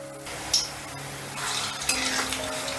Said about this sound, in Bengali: তেলটা গরম হয়ে গেলেই গ্যাসের আঁচটা মিডিয়ামে রেখে বলগুলো আমি ভেজে নেব